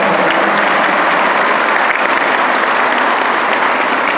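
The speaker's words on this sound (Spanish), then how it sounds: "Un aplauso a los productores de Jalisco." A large crowd at a Jalisco political rally applauds the region's agricultural producers, with dense, loud, steady clapping that holds without a break from start to finish.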